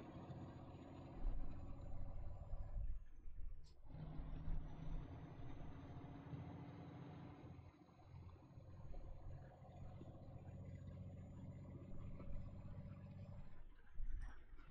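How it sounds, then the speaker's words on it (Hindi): A MAN TGX truck engine runs in Euro Truck Simulator 2, a low, steady diesel drone with a few brief dips, moderately quiet and alone throughout. "कितना आवाज कर रहा है इसका इंजन।"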